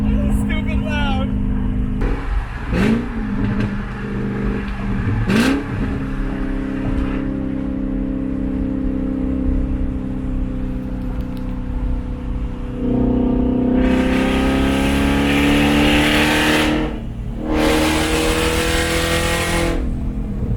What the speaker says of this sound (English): I can't drive this car. This is stupid loud.